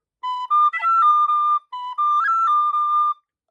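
A Burke tin whistle plays a jig phrase twice, clear bright notes with a short pause between the two runs, close and alone.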